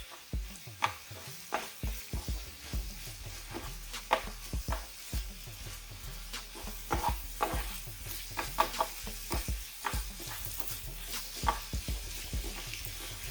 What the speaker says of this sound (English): Let's stir this up some more. I want to fully coat the meat.